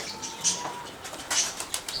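Arab pigeons flapping their wings as they come out of a coop, with a few short bursts of wingbeats close by over a quiet background.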